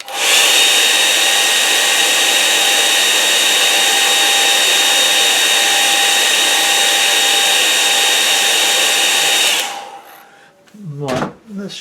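A hair dryer blows steadily on a watercolour painting, a loud continuous whirring hiss lasting about ten seconds before switching off, followed by brief talk.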